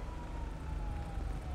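A fire truck siren in a GTA roleplay game, a faint, steady wailing tone heard at a distance over a low background rumble.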